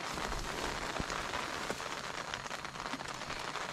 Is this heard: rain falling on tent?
yes